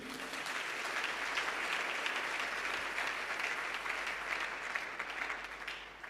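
A church congregation applauds Jesus with steady, sustained clapping from many hands, a dense even patter lasting several seconds with no break.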